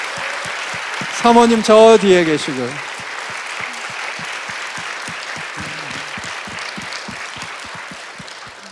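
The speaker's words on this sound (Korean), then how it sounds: "한번 박수를 보내주시죠." A church congregation applauds at a revival meeting, a broad wash of clapping heard alongside someone speaking briefly through a microphone early on. The applause then continues steadily with a few separate claps standing out.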